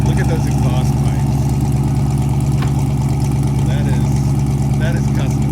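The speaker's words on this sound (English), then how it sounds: "Listen to how good that thing runs." A 1994 Ford Mustang GT convertible V8 with custom exhaust idles steadily nearby, a loud, deep, even rumble throughout, with someone talking over it.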